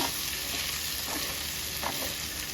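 Tilapia for fish sisig sautéing in a pan, a steady close sizzle of frying with a couple of soft stirring scrapes, no voices.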